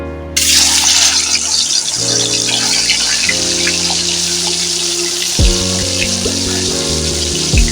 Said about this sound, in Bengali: কড়া গরম হয়ে গেছে তেল দিয়ে দিয়েছি আমি মাছগুলো দিয়ে দেবো